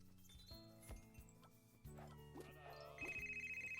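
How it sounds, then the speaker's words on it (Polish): A telephone rings in the game Emily's Wonder Wedding, repeated electronic ring tones among other bright game chimes and effects, ending in a sustained trilling ring near the end. "Dobra, odbierz ten telefon."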